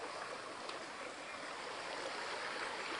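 Flowing creek water rushes steadily and close by, a dense, even wash of running stream with no break.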